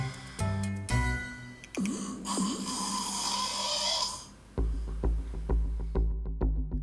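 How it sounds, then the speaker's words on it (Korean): A sleeping person snores loudly and close by, giving several rasping, rhythmic breaths one after another with short pauses between them, in a setting tied to insomnia and sleep apnea. No one talks over it. "잠들자마자 시작된 코골이."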